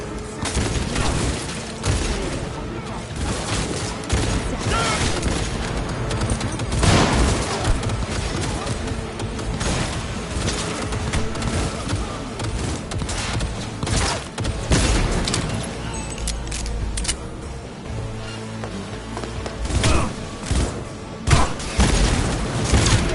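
Dense, continuous gunfire and booming blasts from a Cyberpunk 2077 firefight rattle on throughout, with bursts overlapping and no clear pauses.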